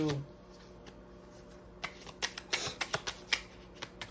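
Playing cards riffle-shuffled by hand at close range, a quick burst of crisp snapping riffles in the second half after a quiet start.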